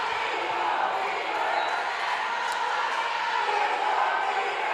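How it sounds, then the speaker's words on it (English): A steady, loud crowd roar of cheering fills a live roller derby game at The Fresh and the Furious 2026, with about four minutes left to play. The cheering holds throughout, with no clear individual voices standing out. "Lots more cheers from the crowd as there's only 4 minutes left in this game."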